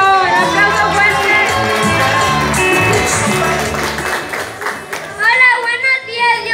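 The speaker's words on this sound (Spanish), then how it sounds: "¡Un aplauso fuerte!" A crowd claps and cheers for an electric bass player introduced during a band's performance, the applause blending with loud music and voices throughout.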